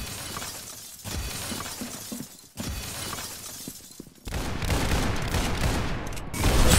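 Rapid gunfire and shattering bursts from the shooter video game Arsenal, loud and dense, with a sharp break midway and an even heavier barrage in the final seconds.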